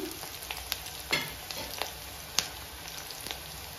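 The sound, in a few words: onions frying in pan for biryani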